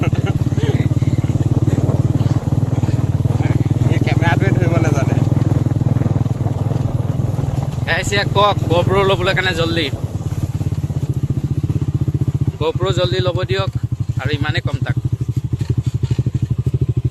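A motorcycle rumbles at close range with a steady low engine drone on a ride through the green hills of Karbi Anglong, while someone talks over it in several short bursts.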